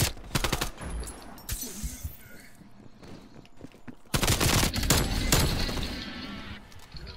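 Rapid automatic gunfire in a Call of Duty match, dense crackling bursts with a heavy sustained volley late on, loud and close, with a faint voice beneath.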